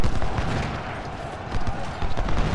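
Musket volleys crackle from massed infantry in the Civil War strategy game Ultimate General: Civil War, a dense rolling rattle of overlapping shots, loud and continuous without pause.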